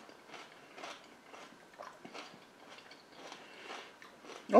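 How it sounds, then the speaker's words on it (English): Crisp crunchy bites and chewing of a lunch dish with celery, close to the mouth and quiet, coming in a run of short crackling bursts before a louder crunch at the very end. "Let's get a bite in."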